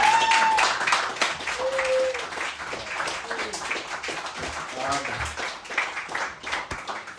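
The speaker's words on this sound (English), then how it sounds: "Please clap." Comedy club audience applauding and clapping, a dense wash of claps that starts loud and gradually thins out, with scattered voices and cheers mixed in.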